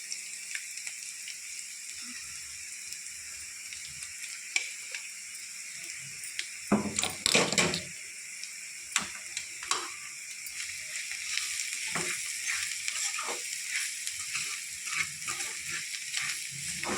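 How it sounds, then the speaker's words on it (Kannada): Ground sesame spice mix frying and sizzling in a pan as it is stirred, with a steady close sizzle, scraping stirs and a few sharper clatters partway through. "ಹಾಕಿ ಚೆನ್ನಾಗಿ ತಿರುಗಿ ತಳ ಹಿಡಿಯೋಕೆ ಬಿಡಬೇಡ್ರಿ ಸ್ವಲ್ಪ"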